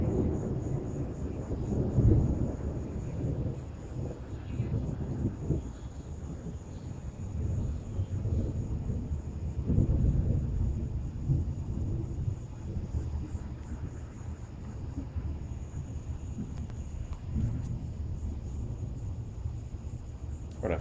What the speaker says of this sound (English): Mississippi evening thunderstorm.